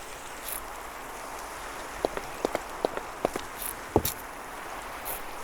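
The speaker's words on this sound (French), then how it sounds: "Bon, en plus avec cette pluie..." Rain falls in a faint, steady patter, with a few sharper drips or taps standing out briefly near the middle, and no one speaking.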